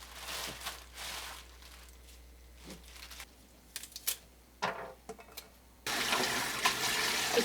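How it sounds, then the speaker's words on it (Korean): Chicory leaves are rinsed under a running kitchen tap, with faint splashing and handling noises before the water stream swells into a louder steady flow near the end. "치거리를 흐르는 물로 씻어주세요."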